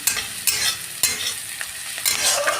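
Mustard paste frying in a pan for a spicy green tomato curry, a steady close sizzle broken by repeated scraping stirs and spoon knocks, with no talk.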